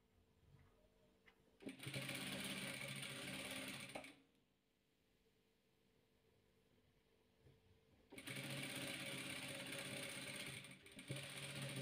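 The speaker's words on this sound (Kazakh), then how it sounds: "Мына екі түсімізді аспан көкпен қою көк түсімізді бір-біріне қаратып тігіп аламыз." Sewing machine stitching two blue fabric pieces together for patchwork, a fast close mechanical whir in two bursts separated by a quiet pause of about four seconds.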